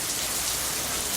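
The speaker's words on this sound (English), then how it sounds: "That's rain. That's how hard it's raining." Heavy rain pours down on Labor Day in a dense, unbroken hiss of drops striking a surface, close and steady with no voices.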